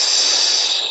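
Forceful breathwork exhale pushed out with a sound, a loud close hissing rush of air that stays steady for just under a second.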